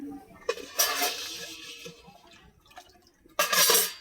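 Water splashes into a pan set on a lit stove for boiling taro, in short separate bursts of pouring with quiet gaps and a final louder pour.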